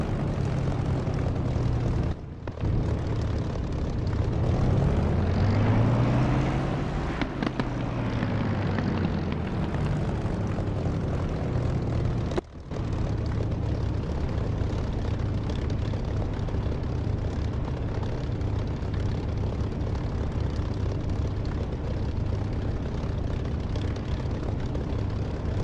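A military aircraft's engine drones steadily and loudly while the plane taxis onto the north edge of a runway in the DCS flight simulator game, with a rising and falling whine near the start and two brief dropouts.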